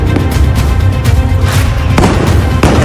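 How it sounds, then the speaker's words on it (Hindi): Firecracker battle between two groups in Canada, with sky shots and loud bombs: dense, continuous crackling and booming, with sharp bangs near and far overlapping throughout and no speech. "एक तरफ से स्काई शॉट आ रहा है, तो वहीं दूसरी तरफ से तेज धमाकों वाले बम।"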